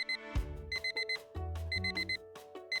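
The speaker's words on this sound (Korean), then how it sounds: "알람이 울렸어요." An alarm clock rings in a quiet room, sounding repeated short electronic beeps in an even, insistent rhythm that stays moderately loud and close throughout.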